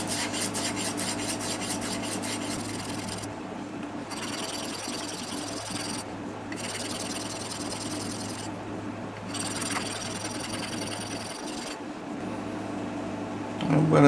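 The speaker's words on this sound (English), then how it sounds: "I'm going to take a file and just go over it and deburr it now." A hand file rasps back and forth over metal T-nuts to deburr them, steady scraping strokes broken by a few short pauses, close and moderately loud.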